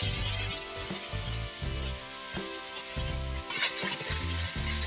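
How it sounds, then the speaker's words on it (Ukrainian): Chicken breast fillet and chopped garlic fry in a pan with a steady close sizzle, broken by rhythmic scraping stirs and a louder burst of crackling near the end. "І трішки прожаримо з іншого боку."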